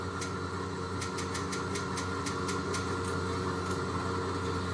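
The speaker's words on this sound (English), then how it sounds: "So left engine's running." Left engine of a Beechcraft BE55 Baron twin in a flight simulator running steadily, a constant droning hum with rhythmic clicking pulses on top, no talk.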